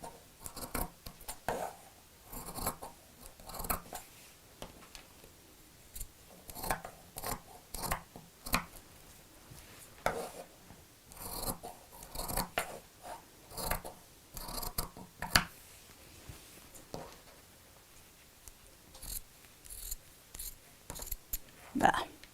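Scissors snip through fabric pieces being cut out for a small sewn box bag, using a pinned piece as a template; repeated short crisp cuts in irregular bursts, close up, with someone speaking intermittently between them.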